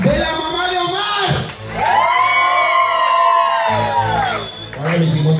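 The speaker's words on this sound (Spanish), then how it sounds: "Que se escuche el grito de los familiares de la mamá de Omar" A party crowd at a family gathering in Tampico Alto, Veracruz yells and cheers loudly during a game, with sustained shouts, whoops and children's voices rising and falling close by.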